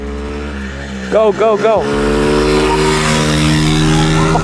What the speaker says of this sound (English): Bro, that bike is so loud.